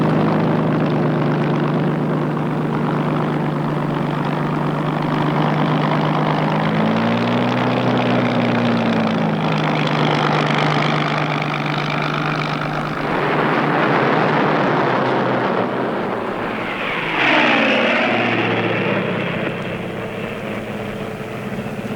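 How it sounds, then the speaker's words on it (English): Coastal Command propeller light bombers drone steadily and loudly, engines humming with shifting pitch and one plane sweeping past with a falling whine near the end. "12 light bombers of Coastal Command go out unescorted to attack the 2 German ships in their home waters."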